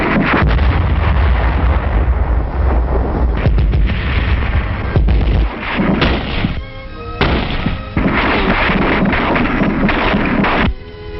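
Artillery fire on Okinawa during a wartime battle, heavy booming blasts and rumbling bursts rolling continuously and loudly throughout, with dense overlapping low thuds and no clear gaps.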